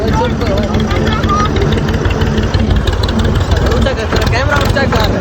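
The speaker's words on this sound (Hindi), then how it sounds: "हम ट्रैक्टर चला रहे हैं" A tractor engine runs while driving through a village, a loud steady mid-pitched chugging rumble with knocking vibration throughout, heard close from the seat, with someone talking over it.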